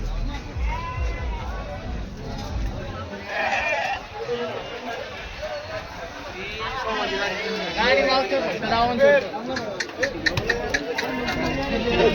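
Many sheep bleat repeatedly nearby at the Chakan livestock market while people chatter and talk all around, a busy crowded outdoor mix of animal calls and voices.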